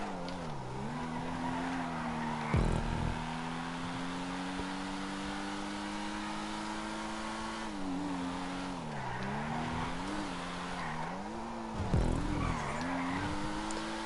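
A Vapid Flash GT sports car in GTA 5 drives with a steady droning engine note that rises and dips through gear shifts, punctuated by brief tire screeches on corners, heard close and alone.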